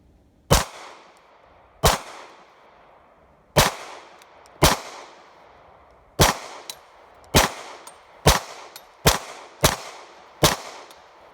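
Eleven sharp, loud Hi-Point pistol gunshots at a firing range, fired in an uneven rapid string with short ringing tails and brief pauses between reports.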